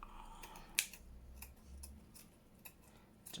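Scissors snip paper for a junk journal cover made from Amazon packaging, giving one sharp, close cut followed by a few quieter clicks and snips in an otherwise hushed room.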